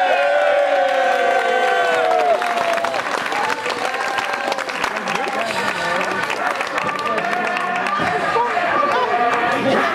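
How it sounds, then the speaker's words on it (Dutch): A crowd at a cycling criterium podium ceremony claps and cheers steadily with scattered whoops and chatter, a dense sustained wash of applause that fills the whole stretch close by, with voices mixed in. "Op de eerste plek, uw applaus voor Petra Garnier"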